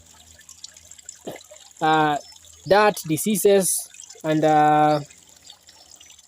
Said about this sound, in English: flowing water that is clear like this is very nice